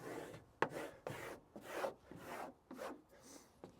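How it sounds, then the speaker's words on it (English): Repeated rubbing strokes of a squeegee pressing XPel protective film onto a Tesla Cybertruck, about eight quiet swishing passes in an uneven rhythm, close up with no talking. "Okay, we're going to squeegee it starting at this end."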